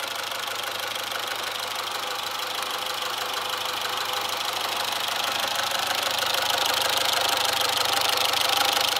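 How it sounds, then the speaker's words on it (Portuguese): A 2006 Fiat Stilo engine idles steadily with a fast, light ticking knock from worn hydraulic valve tappets, close and constant throughout. "parece que são alguns tuchos batendo"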